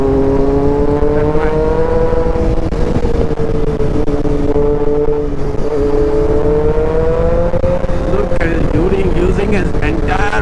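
Sport motorcycles, a Kawasaki ZX10R and a Triumph Street Triple, speed along a hill road, their engines droning loud and close with shifting pitch and rising revs near the end, under a rider's excited talk.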